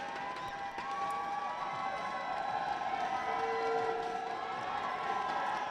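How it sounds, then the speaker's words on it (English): A crowd cheering at a Kodiaks women's basketball game, with a steady, loud roar of voices running through the whole stretch and high, horn-like tones woven into the noise. "Crowd's going crazy right now."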